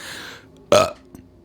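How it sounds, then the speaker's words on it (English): A single short, loud burp rises abruptly from a quiet room, followed by a faint softer trailing sound. "that burp felt really nice"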